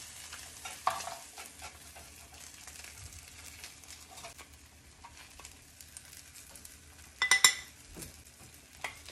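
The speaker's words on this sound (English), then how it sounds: "I'm gonna turn off the pan and serve up some of that rice" Veggie fried rice is scooped out of a pan with a utensil, giving faint scraping and stirring sounds over a quiet background and then a brief burst of louder clinks near the end.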